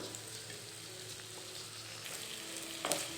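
Onion, curry leaves and green chillies frying in oil for Kerala-style kadala curry, a faint, steady soft sizzle with a brief clink of a utensil near the end, no talking.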